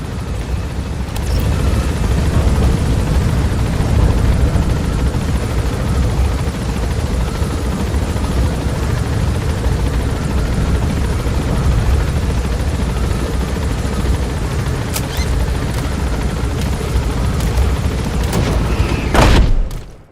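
A helicopter in Metal Gear Solid V taking off, a loud, steady rotor roar with a dense low rumble that holds for the whole stretch before cutting off abruptly at the end.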